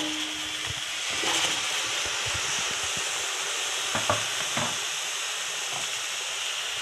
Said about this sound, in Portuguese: Eu vou dar uma fritada aqui